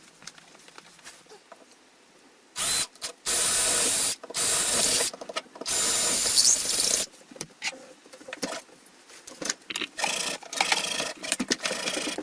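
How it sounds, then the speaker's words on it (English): A loud, harsh power drill whirs in and out in several bursts, close by, drilling a hole through a wall, with quieter scraping and rattling between the runs. "I'm going to drill a hole through the wall there and start cutting"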